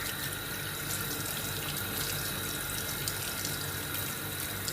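Raw chicken rinsed under a running kitchen tap, water splashing into the sink in a steady, continuous rush close by, with no voices.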